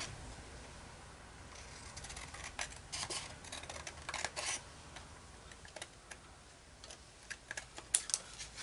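Scissors cut off a strip of paper for a pop-up album, faint crisp snips in short irregular bursts over quiet room noise.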